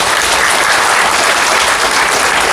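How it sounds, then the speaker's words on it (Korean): Steady, dense applause from an audience welcoming a lecturer onto a stage, loud and continuous throughout without voices. "뜨거운 박수로 맞이해 주시기 바랍니다."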